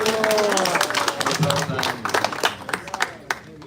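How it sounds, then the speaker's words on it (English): Audience applause in a hall at a spiritual program, a dense burst of clapping from many hands that thins into scattered claps toward the end, with voices talking over it. "let's give a big round of applause to His Grace Lakshmi Narayan Prabhu"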